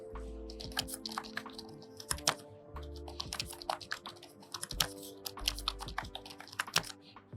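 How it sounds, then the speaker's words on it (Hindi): Typing on a Portronics Key5 wireless keyboard, a steady patter of close, crisp key clicks with uneven rhythm and occasional heavier strokes, with no voices. "कीबोर्ड का साउंड आपने सुन लिया"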